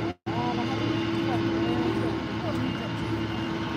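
An airplane departing from Fukuoka Airport gives a steady, loud engine roar with a sustained tonal whine, heard from nearby on the apron after a brief cut at the start.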